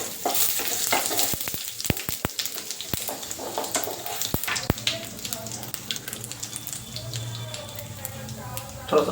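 Cumin, bay leaf and dried chilli sizzle and crackle in hot oil, a steady frying hiss broken by sharp pops early on, then settling into a softer continuous sizzle.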